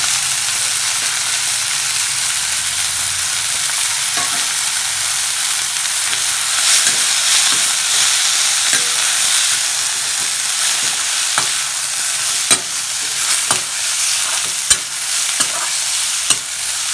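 Grated coconut sautéing in a pan for coconut coriander chutney, a steady soft sizzle with scattered clicks of a spoon stirring, close and continuous without talk.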